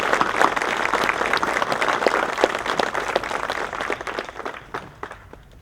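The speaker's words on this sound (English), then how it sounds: "Please join me in another round of applause" Sustained applause from an audience at a Veterans Day ceremony, many hands clapping steadily and fairly loudly before thinning out and fading toward the end.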